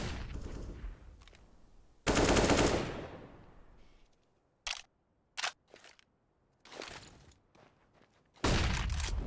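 Gunfire in Counter-Strike on the Dust 2 map, including AWP sniper rifle fire: a loud sustained burst, then several short sharp separate shots, and another heavy burst at the end.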